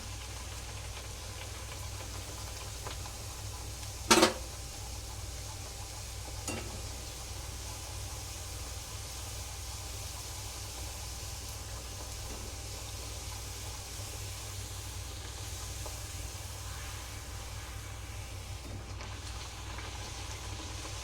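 Dhapate, a spiced flatbread, deep-frying in hot oil over a medium gas flame, giving a steady close sizzle that holds for the whole stretch, broken once early on by a short sharp knock.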